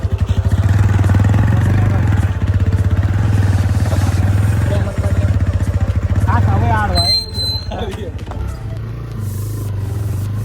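Motorcycle engine droning steadily while riding along a road during a Ganpati festival outing, loud and close throughout, with people talking and shouting over the engine noise.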